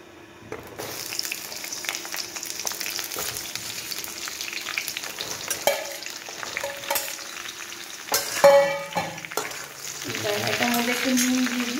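Ridge gourd and flat beans tossed into a pan with black cumin seeds, frying with a steady sizzle and stirring scrapes, with brief clatters and some running water in the background.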